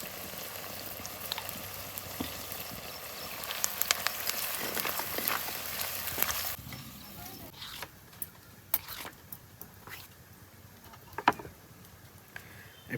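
Onions fry in a pan with bay leaf and a pinch of salt for a traditional country-chicken curry, giving a continuous sizzle that drops quieter midway, followed by scattered clicks and stirring sounds.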